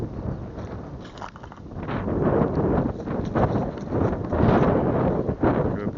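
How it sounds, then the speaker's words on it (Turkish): Strong storm wind buffets the microphone in loud, continuous gusts that rise and fall throughout. "Çok aşırı derecede bir rüzgar vardı"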